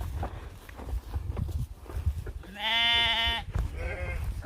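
Sheep bleating at a campsite by the water in the Lake District, a single long, clear bleat up close followed by a shorter second one, over low outdoor rumble and faint footsteps.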